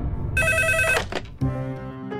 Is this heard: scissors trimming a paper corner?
no